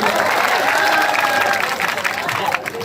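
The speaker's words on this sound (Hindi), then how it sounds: "आप लोग जोरदार तालियां बजाइए।" Dense, steady applause from an audience fills the whole stretch, a broad crackle of clapping with crowd noise mixed in.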